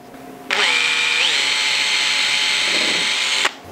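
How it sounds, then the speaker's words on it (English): Power drill boring into the bottom wooden piece of a floating computer shelf, a loud steady whine lasting about three seconds that rises in pitch partway through, then cuts off abruptly. "I'm going to take my drill and drill into the bottom piece."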